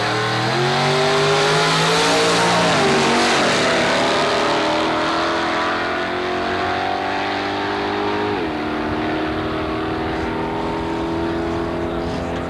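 A 1958 Chevy and a 1957 Chevy drag race at Carlsbad Raceway. The loud engines howl as they rev and climb through the gears, with audible shift breaks, and the sound stays close and continuous throughout.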